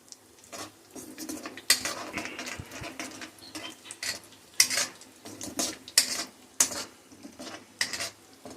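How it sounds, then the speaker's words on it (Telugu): Whole bay leaf, cardamom, cloves, cinnamon and star anise frying in a pan for Kashmiri dum aloo, heard as irregular clinks and scrapes of a spoon against cookware over a faint sizzle. "బిర్యానీ ఆకు, యాలకులు, లవంగాలు, దాల్చిన చెక్క, స్టార్ అనాస్ ఇవన్నీ వేసి ఫ్రై చేసుకుందాం."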